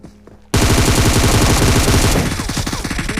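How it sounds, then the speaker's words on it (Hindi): Rapid automatic gunfire bursts in a mobile shooter game erupt suddenly after a brief quiet moment, loud and continuous, with a rattling staccato rhythm that shifts slightly toward the end. "अब गोली हर जगह से चल रही थी"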